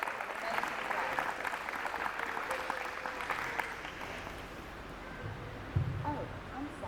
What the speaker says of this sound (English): They deserve another round of applause because they have just done an amazing job.